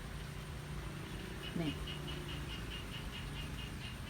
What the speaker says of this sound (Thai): เสียงกบ เสียงเกียดได้ยินไหมคะ